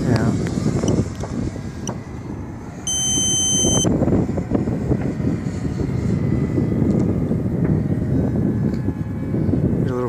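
A Freewing F-104 Starfighter RC jet on its fourth flight gives off a steady electric ducted-fan roar overhead, loud and constant, with people talking over it.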